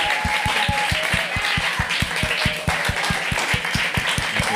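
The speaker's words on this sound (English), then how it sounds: "So let's clap for that." Audience applause greets the first graduates from Panama and Ghana at a global jazz program event, a steady, even run of claps with a regular pulse lasting the whole stretch, with no talking over it.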